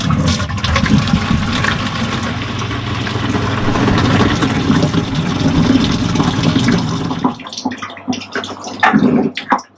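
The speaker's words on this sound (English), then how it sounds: "I've already released the water in the last one because the valve is now facing down, which is the on position." Hot water gushes from the open valve of a restaurant soup station into a bucket, a loud continuous splashing rush that cuts off near the end, leaving a few faint drips and clanks.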